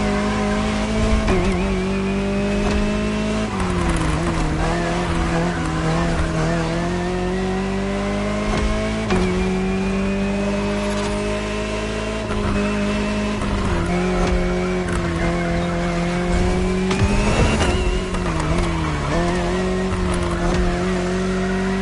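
A Jaguar CX-75 concept car in The Crew Motorfest drives continuously with a steady, loud engine drone whose pitch rises and falls through gear changes, with occasional tire squeal and no talking.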